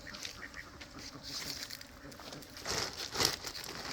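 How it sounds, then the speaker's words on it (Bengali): Domestic ducks on a duck farm quack in a busy, continuous chorus, with scattered louder calls rising above the steady flock noise; no one speaks. "আমি সাধারণত হাঁসই পালন করি, বিগত প্রায় 8 বছর থেকে হাঁস পালন করি।"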